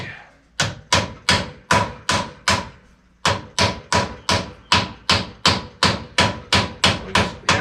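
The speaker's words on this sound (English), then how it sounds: "We just hammer these on nice easily." Steady hammer blows ring out as bearings are hammered onto the front yokes of a Scag Cheetah mower, about twenty sharp metallic strikes at a regular pace with one brief pause, loud and close, no talking.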